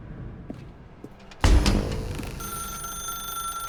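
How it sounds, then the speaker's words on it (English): A telephone rings in The Stanley Parable Ultra Deluxe video game, a bright electronic ring that starts abruptly after a few soft clicks and sustains steadily to the end, loud and close, no talking. "Now pick up the phone."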